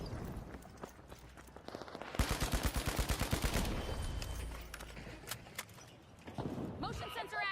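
Gunshots in the s&box video game: a fast burst of roughly a dozen loud, close shots in the middle, with scattered other game sounds and people talking throughout.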